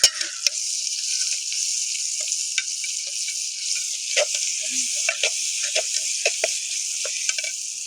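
Tomatoes, onions and curry leaves sautéing with salt in a pan over a wood-fired stove, a steady close sizzle with scattered crackles and pops throughout, no voices.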